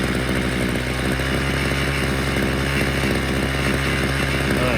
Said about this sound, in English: It seems like it's actually revving up a bit.